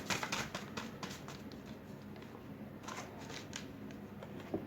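Tarot cards shuffled and drawn by hand, giving soft, close papery riffles and flicks in quick irregular bursts against a quiet room, with no talking.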